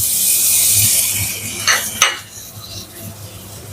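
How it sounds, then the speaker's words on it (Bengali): Chilli powder, salt, green chillies and tomato stir-fry in a pan. A steady hiss runs under a few sharp metal spoon scrapes against the pan near the middle, close and fairly loud. "মশলাগুলো এবার কষিয়ে নেব।"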